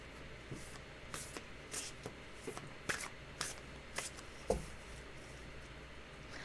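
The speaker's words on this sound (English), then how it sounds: "Why don't you shuffle first, and I'll cut, and you can pick the cards." A deck of tarot cards being shuffled by hand, a run of soft riffling and sliding bursts spaced through the stretch, close and fairly quiet with no talking.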